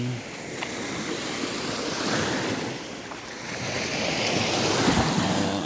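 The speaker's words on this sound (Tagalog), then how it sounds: "nandito kami sa dagat." Sea waves wash onto a beach in a steady, loud surf roar, with gusts of wind buffeting the microphone and no speech.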